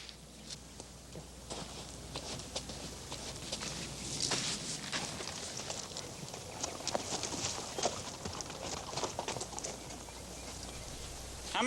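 Horse hooves clip-clop in a steady, irregular patter, moderately close but quiet, over a soft outdoor background with occasional faint bird calls.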